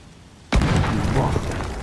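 An explosion in the video game Force of Nature 2 bursts out suddenly after a quiet moment, a single loud booming blast whose rumble lingers and slowly trails off.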